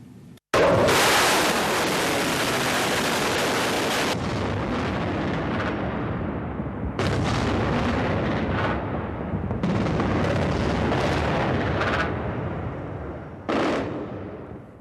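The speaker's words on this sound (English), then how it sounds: "missiles hitting the heart of Baghdad" Missile strikes and explosions pound Baghdad at the start of the Iraq war, caught in news footage: loud, dense blasts and rumbling bursts continue almost without pause, with sharp new impacts near 7, 10 and 13.5 seconds.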